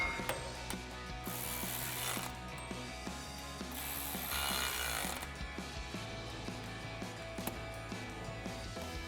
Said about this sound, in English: Then we can tighten these down with our 5/16 socket.